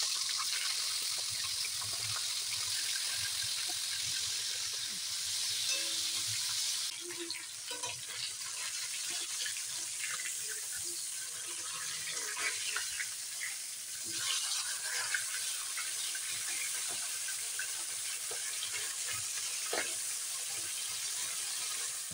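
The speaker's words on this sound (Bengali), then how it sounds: "এবারে আমি মাথাগুলো একদম মচমচে করে ভেজে তুলে নেব" Salted, turmeric-coated fish heads fry crisp in hot oil, a steady sizzle and crackle that goes on with shifting bursts and occasional clinks of utensils, no voices.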